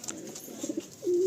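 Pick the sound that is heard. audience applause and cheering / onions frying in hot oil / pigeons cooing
pigeons cooing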